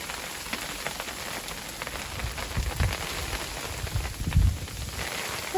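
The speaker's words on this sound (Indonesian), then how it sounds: "Aduh, hujan es." Hail falling outdoors beside a small campfire, a dense steady patter of ice pellets striking the ground and surfaces, with a few heavier thuds near the end and no voices.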